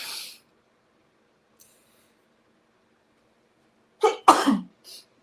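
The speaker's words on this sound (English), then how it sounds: "And I'm going to sneeze." After near silence, a single close, sharp sneeze bursts out with a quick intake of breath before it. Faint short noises come at the start and end.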